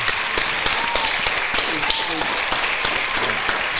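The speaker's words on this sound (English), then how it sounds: "Let's clap it up for Chica, man." A small group claps for Chica during a podcast interview, a steady patter of hands running throughout while voices talk over it.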